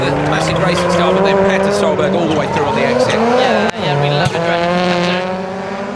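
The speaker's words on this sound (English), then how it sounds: "We can hear the anti-lag popping where we're stood" Rallycross cars race at the FIA World Rallycross of Italy, engines revving and shifting loudly with sharp anti-lag pops and crackles, while a commentator talks over the din.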